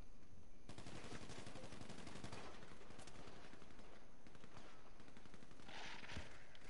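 Sustained automatic gunfire from GTA Online during a missile base mission, a dense, continuous rattle of rapid shots that stays loud throughout with no pauses and no talking.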